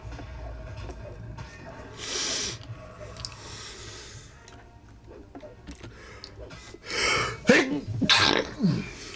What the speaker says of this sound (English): Trying not to sneeze.